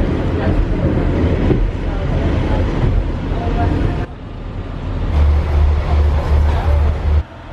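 A Pacer diesel train near Parbold station rumbles steadily with a low engine drone and clattering wheels, loud and close, while a person talks over it.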